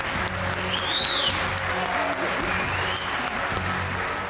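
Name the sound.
standing ovation from US parliamentarians for Zelensky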